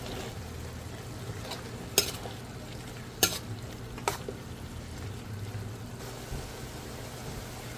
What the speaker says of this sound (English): So this has started to fry up.